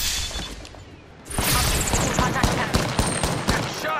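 Rapid bursts of gunfire in Apex Legends, close and loud, starting after a quieter stretch with a dense volley of sharp shots and cracks continuing to the end.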